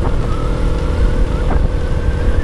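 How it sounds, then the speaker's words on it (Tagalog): Strong wind roars into the microphone while riding a Panarea 125, a constant rough buffeting rush with a low engine drone underneath, loud and unbroken with no talk. "Taas ng hangin."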